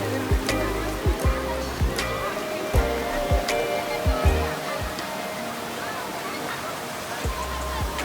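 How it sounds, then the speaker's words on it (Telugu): A small roadside waterfall on the mountain road to Rohtang Pass near Manali rushes steadily, with sharp intermittent knocks and thumps over the continuous water noise. "ఇక్కడ మనకి సైడ్ వాటర్ ఫాల్ అయితే ఉంటుంది చిన్నది"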